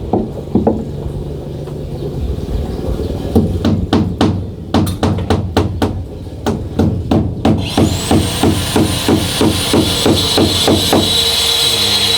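Hammer strikes on a house under construction ring out in a steady, fairly close series of sharp knocks, accelerating into rapid regular blows, with a faint high whine in the background.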